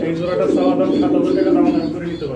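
Pigeons coo in a low, continuous murmur at a fancy pigeon breeder's loft, with people talking over the cooing throughout.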